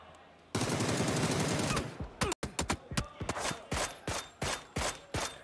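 PUBG esports match gunfire: a sustained automatic burst, then a string of sharp single and double shots at irregular intervals, loud and close with no talk over it.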